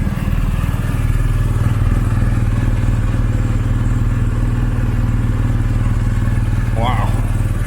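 A 2020 BMW R1250RS motorcycle engine drones loud and close for the whole stretch, a steady low rumble with no pause, and a short high chirp cuts in briefly near the end.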